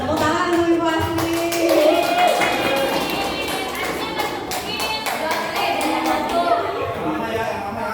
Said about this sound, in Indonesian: Tepuk tangan untuk Ibu Astri